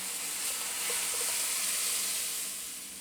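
Mixed dal dropped into a hot pan on medium heat hisses in a continuous, close sizzle that slowly fades toward the end.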